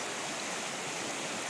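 La Cristalina creek rushes over waterfalls in the hills between Santander and Boyacá, Colombia, its water roaring as a steady, dense broadband wash close by, with no voices.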